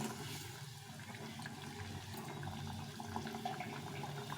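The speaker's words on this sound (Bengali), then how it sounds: "এই যে ফুটিয়ে রেখেছিলাম জলগুলো দিয়ে দেবো এখানে" Boiled water poured into a thin magur fish curry with bitter gourd and drumstick, a faint continuous splashing, gurgling pour with no voices.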